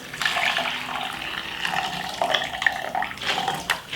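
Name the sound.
pouring hot water for beetroot tea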